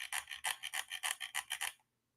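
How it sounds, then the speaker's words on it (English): A computer mouse wheel scrolls in a quick run of about ten ratchety clicking bursts, close and fairly loud, before stopping abruptly into silence. "That's a lot of scrolling mouse in case you missed it."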